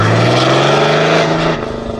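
A diesel truck engine roars loudly on a dyno, holding a steady high rev before easing off slightly, close and continuous with no talking.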